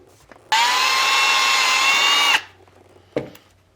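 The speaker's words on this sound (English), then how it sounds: "So we're going to be drilling this guy," A power drill bores a hole in a KTM dual sport kit plate, one loud steady whine lasting about two seconds before winding down, then a brief second burst.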